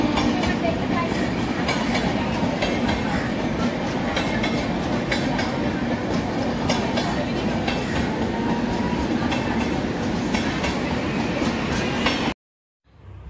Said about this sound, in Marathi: आत्ता आमची ट्रेन चालू झालेली